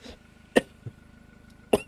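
A person coughs during a German gameplay recording of Contraband Police, giving two sharp, close coughs about a second apart with a fainter throat noise between them and no speech.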